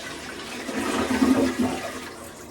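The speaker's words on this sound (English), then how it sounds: "flushed it several times, and we're good to rock and roll" A newly replaced toilet flushes once, a steady rush of water swelling in the middle and tapering off as the bowl drains, close and alone with no talk.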